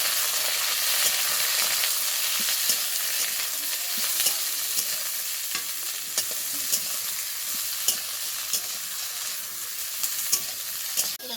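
Eggplant, chopped onion and green chillies fry in a pan of oil for a Bengali fish-fat curry. A steady close sizzle fills the whole stretch, with repeated scrapes and taps of stirring and no talking.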